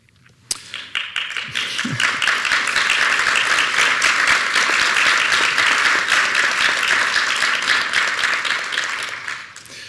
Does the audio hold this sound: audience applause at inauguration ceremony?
yes